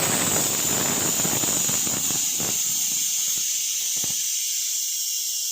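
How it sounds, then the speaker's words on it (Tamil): A pressure cooker releases a loud, continuous hiss of steam close up as it is opened, gradually thinning while clicks and rattles punctuate it. "இப்போ 3 விசில் வந்துட்டு குக்கர் திறக்க போகிறோம்."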